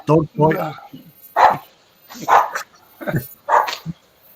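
Dogs fighting and barking at close range, loud sharp barks in several quick bursts, with a person talking between them.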